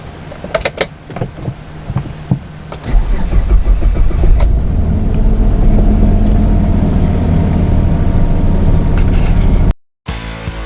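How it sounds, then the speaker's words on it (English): A car's engine cranks and catches after a few clicks and rattles, then settles into a loud, steady idle as it warms up. The sound cuts out abruptly near the end. "the first thing I'm going to be doing is starting the car to let it warm up a little bit"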